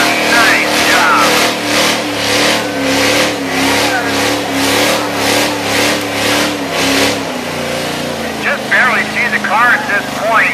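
At Dragway 42 in Ohio, a 1946 Plymouth gasser roars through a tire burnout, its engine pulsing in rapid rev bursts before the pitch drops and settles, with an announcer talking over it.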